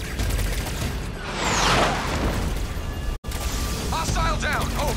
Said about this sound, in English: I'm under fire from enemy infantry